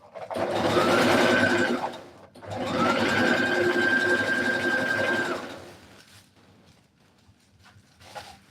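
Sewing machine running a straight stitch on a short bubu dress, two loud continuous whirring bursts of a few seconds each with a brief pause between, then quieter handling sounds.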